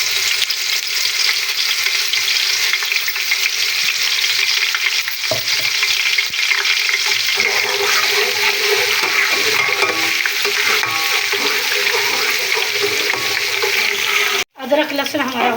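Freshly pounded ginger-garlic paste sizzles loudly in hot ghee for chicken haleem, a dense, steady frying hiss with occasional stirring scrapes, close and continuous throughout.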